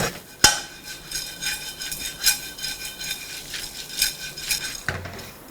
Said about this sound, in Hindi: Now give it a nice stir.